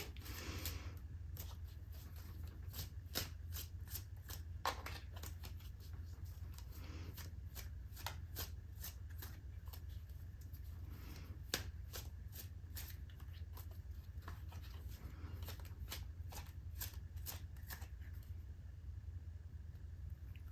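Tarot cards being shuffled, a quick run of crisp riffling flicks repeating steadily for about eighteen seconds at close range, faint and with no one talking, then settling to a quiet end.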